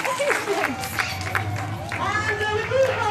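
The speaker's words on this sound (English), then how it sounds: "We'll give them a nice round of applause anyway." Audience applause at a zoo bird show: scattered, light clapping from a small outdoor crowd mixed with nearby chatter, while a presenter talks over it.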